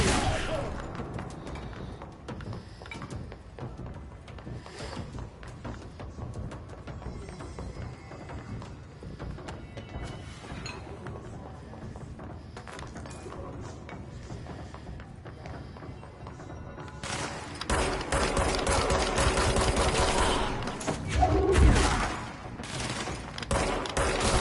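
Gunfire from target shooting in the action video game Control, a steady stream of shots under game ambience that swells into a louder, denser burst near the end, with no talking.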